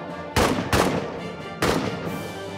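Gunfire in the trench-warfare game All Quiet in the Trenches: three loud, sharp shots at irregular intervals, each with a short echoing tail over steady background battle noise.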